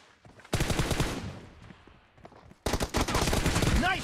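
Gunfire in a video game team deathmatch: two loud, dense bursts of rapid shots, the first fading out and then a second sustained volley, close and sharp.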